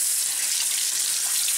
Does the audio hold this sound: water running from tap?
yes